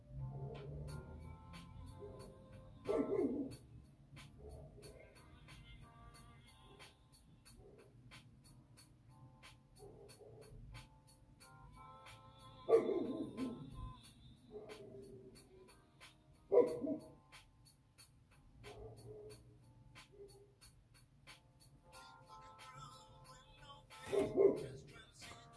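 A dog barks in several separate short bursts spread across a quiet indoor scene, fairly faint and spaced many seconds apart, with low background hum between them.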